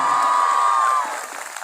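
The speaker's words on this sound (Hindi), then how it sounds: "आदरणीय गुलाब जी के लिए जोरदार तालियां एक बार होनी चाहिए।" Audience applause at a Republic Day school function, a sustained tone fading out first, then a crowd's scattered clapping continues at a modest level.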